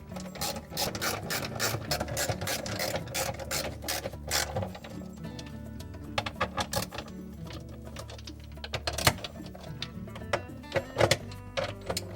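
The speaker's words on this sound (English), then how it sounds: "We'll reinstall the 5/16 head screws." A ratchet drives 5/16-inch hex-head screws into a Whirlpool dishwasher's discharge pump housing, giving rapid rhythmic clicking in repeated bursts, close and fairly loud, with short pauses and sharper knocks between runs.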